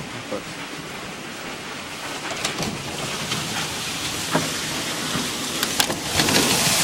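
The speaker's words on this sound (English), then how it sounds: "it is fucking pouring hail" Hail pouring down outdoors during an Arkansas storm, a dense, steady hiss of pelting ice with scattered sharper impacts and clatters standing out throughout.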